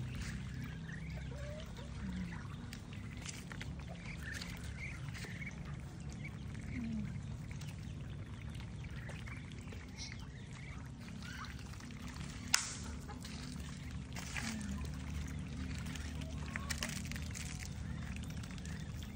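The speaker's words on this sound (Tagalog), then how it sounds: "Ayan, mga alaga nila pato." Ducks quack softly in the background over a low, steady outdoor hum in rural La Union, Philippines, with a trickle of water and occasional small clicks.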